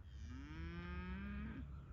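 A cow in Uzbekistan moos once, a long low drawn-out call rising slightly and then trailing off, heard from nearby but faintly over a steady background hum.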